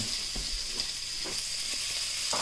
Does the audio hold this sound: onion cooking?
yes